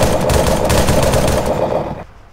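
Sustained automatic gunfire in the video game Arma 3, loud and dense, a continuous rattling barrage that cuts off abruptly near the end, with no talk.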